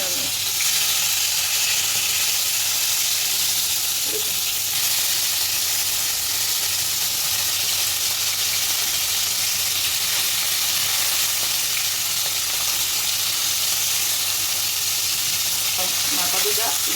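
Continuous loud sizzling from fish and vegetables frying in hot oil in a pan, a dense steady hiss with occasional stirring scrapes and no talk.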